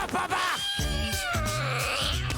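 A cat in the animated film The Bad Guys yowls and meows in long, bending, strained cries, loud and close, layered over a busy, full backdrop.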